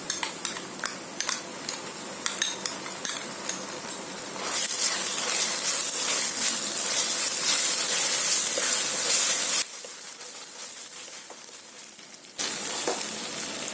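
Ginger-garlic paste added to onions frying for a village-style Konkani biryani, with clinking spoon strokes against the pot, then a loud steady sizzle that cuts out briefly and returns.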